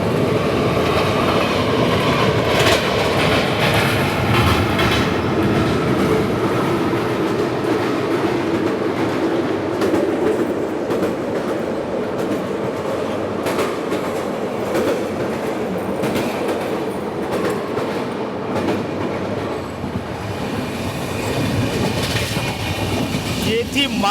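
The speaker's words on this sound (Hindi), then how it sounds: "आजाद हिंद एक्सप्रेस।" The Azad Hind Express passenger train rolls along the tracks, heard from on board as a loud continuous rumble with rhythmic wheel clatter throughout, steady and close.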